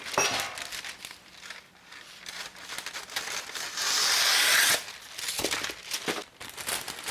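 Scissors cut through a sheet of parchment paper in a kitchen, producing crisp crinkling and rasping snips up close, with one longer continuous slicing stroke in the middle.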